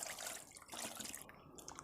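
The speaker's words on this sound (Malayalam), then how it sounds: "ആവശ്യത്തിനുള്ള വെള്ളം ഒഴിച്ച് കൊടുക്കുക" Water poured over tamarind in a bowl to soak it, a steady close splashing and trickling stream that runs nearly two seconds with no voices.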